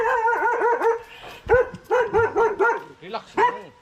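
A dog barks and yips in quick bursts, fairly close, at a waterfall spot where the dogs are used to people, with a person speaking over part of it.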